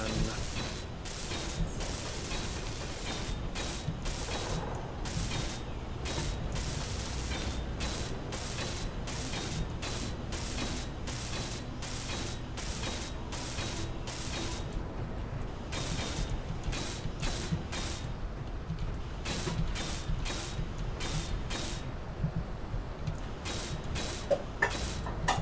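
A rotor mechanism in Space Engineers turns with a rapid, repeating ratcheting click, a steady mechanical grinding that runs throughout with faint voices now and then in the background.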